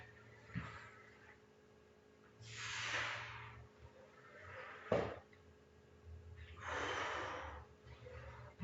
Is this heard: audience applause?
no